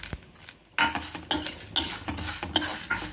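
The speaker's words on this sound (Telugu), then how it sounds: "చాలా కొద్దిగా మిరియాలు వేస్తున్నానండి." Black peppercorns tipped into a pan while making curry leaf powder give a short burst of rattling and a scrape of a spoon stirring against the metal, close and fairly loud.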